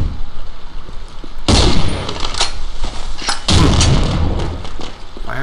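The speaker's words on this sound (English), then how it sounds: "Fireworks in the water." Fireworks exploding over water in the video game Postal 2: two loud clusters of crackling, booming bursts, each several seconds long, over a constant background rumble.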